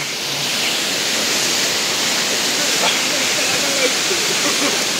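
A continuous roar of falling water, dense and hissing from a rain-fed waterfall at Ghonsari Falls close by, with faint voices barely audible underneath.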